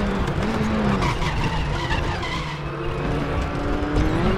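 Formula Raceroom Junior single-seater braking hard into a corner in the Raceroom racing game, tires squealing and skidding over a loud, continuous engine drone that sweeps in pitch, close and unbroken throughout.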